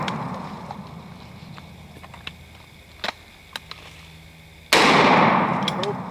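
A sawed-off shotgun fires one loud, close blast at pumpkins outdoors; the sharp report rings out and decays slowly, after a few faint clicks and taps.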